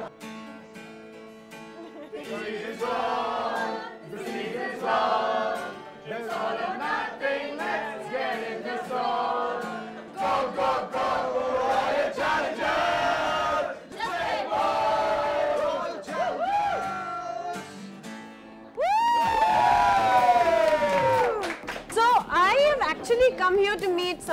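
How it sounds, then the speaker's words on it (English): RCB cricket fans sing their team anthem together, a loud, close crowd chanting in unison with rising shouts and cheers toward the end. "We're going to sing you guys the, the anthem"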